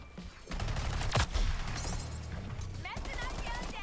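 Gunfire in the video game Suicide Squad: Kill the Justice League: rapid bursts of shots and impacts in a busy combat mix, with music and effects, while voices talk over the action.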